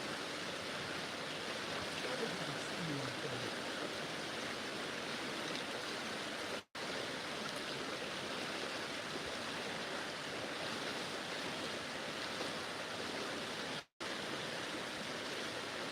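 Water flows steadily in a salmon creek in Ketchikan, Alaska, a continuous broadband rushing hiss at close range that stays even throughout, broken only by two very brief dropouts.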